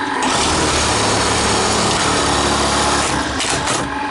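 A Juki LBH-761 buttonhole sewing machine with a missing cutter runs noisily, a loud, continuous, close mechanical whir and clatter lasting the whole stretch with no speech.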